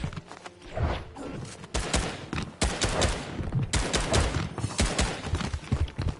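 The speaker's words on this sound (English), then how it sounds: "That guy shooting freaks me out." Rapid bursts of gunfire in a Fortnite match, irregular volleys and single shots cracking over about six seconds, fairly close and loud with no talking.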